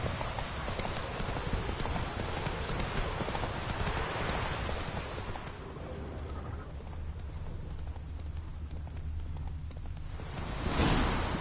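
Roach the horse trotting in Witcher 3, a dense, rapid run of hoof clops that thins out midway to a lighter patter before picking up again, with no talk.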